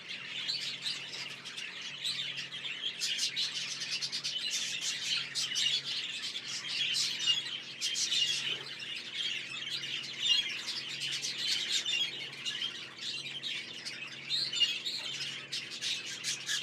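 Many budgerigars chirp and chatter constantly in an aviary, a dense, high-pitched flock chorus that continues steadily throughout.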